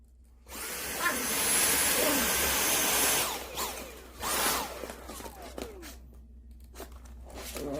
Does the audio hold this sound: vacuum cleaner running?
yes